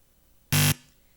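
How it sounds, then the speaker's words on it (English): A quiz show buzzer sounds once at a school quiz duel, ending the round with a single loud, harsh electronic blast of about a quarter second against a quiet room. "that buzzer means the end to the joust"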